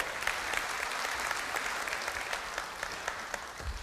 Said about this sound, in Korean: 큰 박수로 마동훈 미래전략실장을 환영해 주십시오